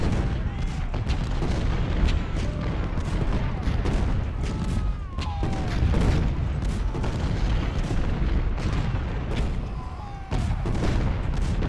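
Massed Civil War artillery fire in Ultimate General: Civil War at Gettysburg keeps up a dense, continuous barrage of overlapping booms and cannon shots, loud and unbroken from start to finish.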